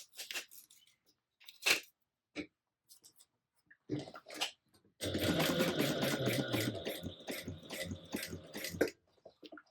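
Sewing machine stitching a tote bag seam as masking tape is peeled back, a dense, steady whirring run of about four seconds, preceded by scattered short clicks and rustles.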